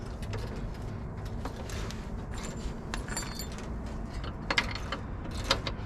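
A stuck line nut being threaded onto the fuel line of a 1964 Rambler Ambassador Cross Country wagon, producing close, small metallic clinks, scrapes and ratcheting ticks in an irregular run with no talking.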